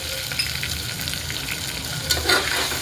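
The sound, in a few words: potatoes and garam masala being stirred while frying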